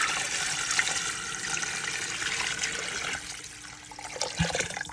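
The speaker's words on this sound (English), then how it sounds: "So now we're going to add the water." Water pours into a pot of chicken bones for pho broth, a steady broadband rush that holds for several seconds, eases slightly, then swells again toward the end, close and fairly loud with no talk.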